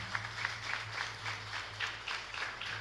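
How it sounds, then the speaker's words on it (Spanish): A congregation in a chapel claps for the mothers during a Marian novena service, a moderate, fairly regular clapping pulse from a modest group, with a low steady hum beneath it. "Un fuerte aplauso para todas las mamás, por favor, aquí."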